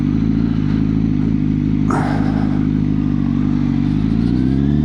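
Yamaha XT600 motorcycle engine idling and pulling along a country road, a steady low thrum close by, with a brief clattering burst around the two-second mark.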